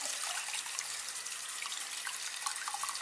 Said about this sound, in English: You just wash your hands like normal.